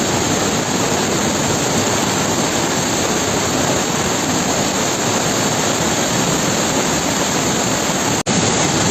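Heavy water from a cloudburst near the Kwar hydroelectric project in Kishtwar rushes down in a dense, unbroken roar, loud and constant throughout with one brief dropout near the end.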